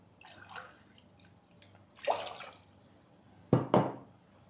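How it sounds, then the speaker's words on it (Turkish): Water is poured from a glass into a pot of sugar for syrup, in a few short splashy bursts, with two stronger pours near the end, fairly faint and close in a quiet kitchen. "Üzerine 3 bardak da su ilave ediyorum."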